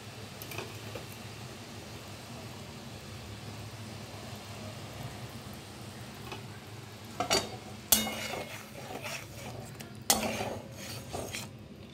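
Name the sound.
kajori fish added to simmering mustard curry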